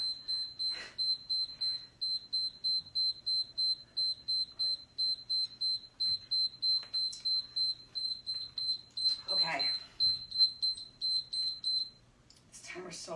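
A loud electronic workout interval timer beeps in a rapid, regular series of short tones, then stops; a voice briefly speaks near the end.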